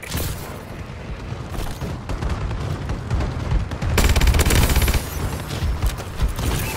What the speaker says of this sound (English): Bombing run clearing the way.